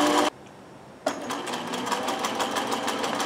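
A Consew CN2053R-1A industrial sewing machine driven by a servo motor runs at full industrial speed, a brief run, a short pause, then a dense, steady rapid whir and chatter of needle strokes, close and loud.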